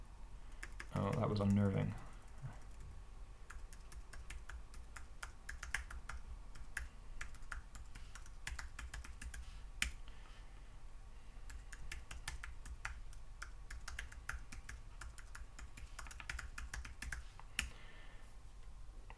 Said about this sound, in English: you now know from the sounds the keys made on my keyboard what the passphrase was